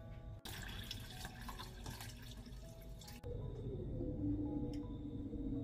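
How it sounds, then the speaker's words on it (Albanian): Water runs from a tap into a pot holding jars of pickled peppers, a steady, faint rushing stream that shifts in tone partway through as the pot fills, with no talk. "Vazhdojmë që në tenxhere të shtojmë ujë, ujë do të shtojmë derisa të mbulohen kavanozat dy gishta me ujë."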